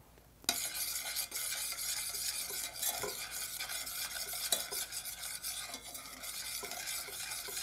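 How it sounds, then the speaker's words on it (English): White truffle is stirred into a warm mixture in a pan, a continuous close scraping and swirling with a faint sizzle and occasional light utensil taps, no voices. "Stir in the white truffle."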